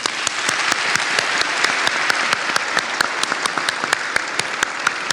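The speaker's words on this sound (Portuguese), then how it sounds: "Eu acho que vale uma salva de palmas, né" A church audience applauds after a pastor asks for a round of applause for a professor, the dense clapping steady and fairly loud for about five seconds, with sharper individual claps standing out and no talking over it.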